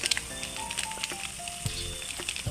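Ground cumin, coriander and chili powder with salt fry in a pan for potol kofta, a close, steady sizzle broken by scraping stirs and small ticks.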